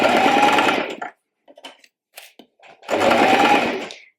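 Sewing machine stitching a seam on a shirred back top, with two bursts of rapid whirring needle motion, first reversing to secure the stitch then running forward, separated by a pause filled with soft handling clicks.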